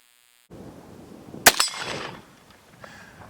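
Single loud crack of a Savage 99 takedown rifle fired outdoors, a sharp report followed by a rolling echo that fades over about a second, with light background noise.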